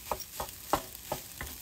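Chicken breast stir-fried in a pan with ginger, turmeric and chili, giving a steady close sizzle broken by about five rhythmic scraping stirs, with no voices.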